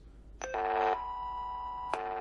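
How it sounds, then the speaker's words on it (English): Tracing tones from cable tone probes such as an NC100 and a 77GX: a sharp click, then a steady electronic buzz-like tone that holds for about a second, drops to a softer sustained tone and ends with another click. "the last two carry distinct tracing tones"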